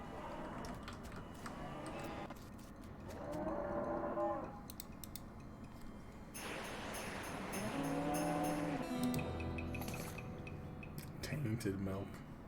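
Cows moo in the Wild West video game West of Loathing, several drawn-out low calls overlapping across the scene, with ticking game effects in between and no talk.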